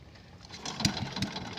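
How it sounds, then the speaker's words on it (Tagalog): Engine of a machine at a fish pond harvest, starting up with a few rough, low bursts over faint background noise. "Ayan, ini-start na nila yung gamit nilang makina."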